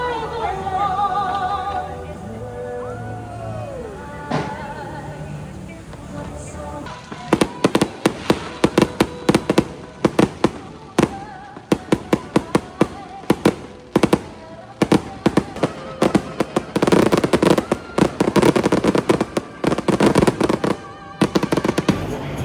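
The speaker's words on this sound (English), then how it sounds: "watching the 4th of July fireworks show here at the park" A 4th of July fireworks show at Six Flags Over Texas: a low crowd murmur and a faint whistle first, then a long barrage of loud, sharp explosions and crackling bursts in rapid, irregular succession that keep going to the end.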